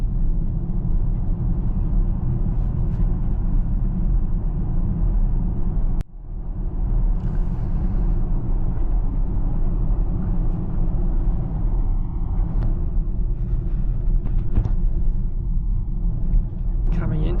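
A brand-new Zeekr 7X electric car drives at twilight on Kangaroo Island, giving a steady, loud road rumble and tyre noise throughout, with a brief dip in the middle and people talking over it.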